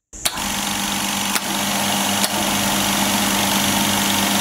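A newly bought air compressor starts up and runs with a loud, steady motor drone near at hand, marked by a couple of brief clicks and no speech.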